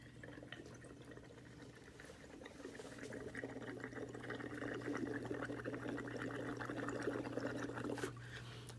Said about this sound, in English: I'm going to dissolve a bunch of carbon dioxide into this water.